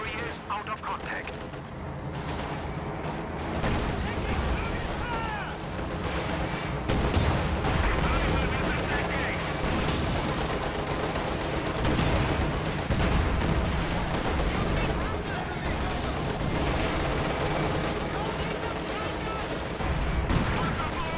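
Tank battle in a World War II strategy game, a T-34 charging a Panzer IV amid cannon blasts and machine-gun fire, a dense continuous roar of explosions and gunfire with a commentator talking over it.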